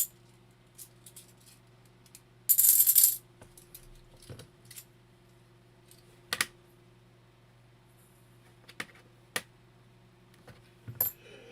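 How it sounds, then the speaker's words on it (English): Half dollar coins clink and drop in short bursts, with one louder jangling rush of coins early on and scattered single metallic clicks after, close up over a low steady hum. "Listen to the coins."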